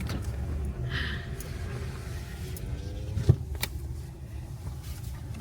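A car rolls slowly through a concrete lot in Shiloh, Harris County, Georgia, its steady low interior rumble and road noise continuous throughout, with a single brief thump partway through and no talk.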